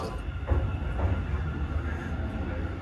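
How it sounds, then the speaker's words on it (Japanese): Rumbling Hanshin Railway train ride from Koshien toward Kobe-Sannomiya, a low steady rolling drone inside the carriage with a few soft rhythmic clunks, moderately loud throughout. "これから阪神電車に乗って神戸三宮へ向かいます。"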